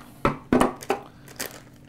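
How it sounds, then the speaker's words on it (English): A plastic cake mix bag is snipped open with a pair of scissors, giving several close crinkling crunches in quick succession, loud against a quiet room with no talk. "one of the easiest ways to get the cake mix out of the bag is a pair of scissors"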